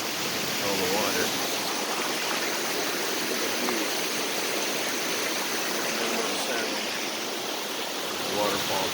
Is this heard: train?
no